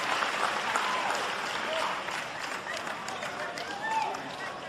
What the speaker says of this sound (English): Let's get a round of applause for our silver medalists, Hunter and Yates Johnson.